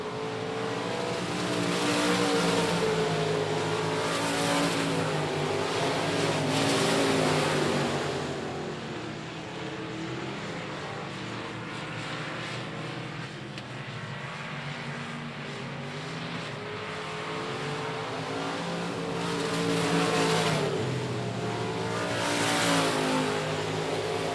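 Race cars at a speedway running the last lap of a regular race program make a continuous loud engine roar that swells and fades as packs pass, heard from a distance with no talk.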